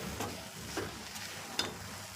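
A spoon or spatula stirs beetroot ladoo mixture of grated beetroot, coconut, jaggery, milk and ghee in a pan, giving a low steady sizzle with soft scraping strokes spaced through, nearby and alone.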